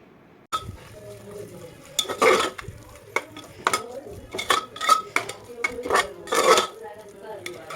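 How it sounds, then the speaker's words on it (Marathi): Toor dal is stirred into hot oil in a pan, giving irregular metallic scrapes and clinks of a spoon against the pan over a faint sizzle. The sounds come in bursts, close up, with no speech. "आता याच्यामध्ये आपण तुरीची डाळ घालून घेऊया व ती मिक्स करून घेऊया याच्यामध्ये"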